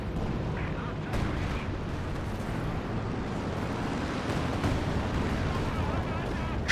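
A coordinated artillery barrage pounds a battlefield in Company of Heroes 2 during a multiplayer match, giving a dense, continuous rumble of overlapping booms and blasts.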